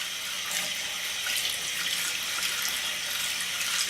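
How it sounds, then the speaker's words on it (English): Tap water runs in a steady, bright stream while a makeup brush is rinsed under it, an even close hiss with no talk. "Okay, then we're just going to run this under the water."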